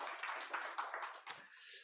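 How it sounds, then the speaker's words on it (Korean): Church congregation clapping together during a Sunday worship service on Palm Sunday, a dense, steady patter of many hands at moderate distance, swelling briefly before fading into a quieter tail. "우리 하나님께 영광의 박수 올려드리겠습니다"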